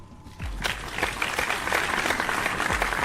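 A crowd in the video game Life is Strange 2 breaks into sustained applause after a brief quiet start, many hands clapping densely and steadily until the end.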